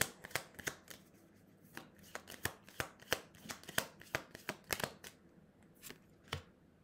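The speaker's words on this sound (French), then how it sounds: "Les cartes n'arrêtent pas de tomber." Tarot cards being shuffled and falling, a quick irregular run of crisp papery flicks and slaps, close and fairly quiet, with a few pauses between bursts.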